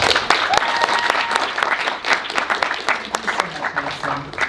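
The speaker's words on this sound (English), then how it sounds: "please let's have a round of applause for Alana Winter" Audience applause for a speaker taking the stage at a learning talk, a lively patter of many hands with sharp individual claps, steady and fairly close, with some crowd murmur.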